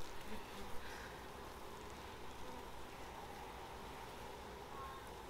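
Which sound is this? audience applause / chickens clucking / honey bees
honey bees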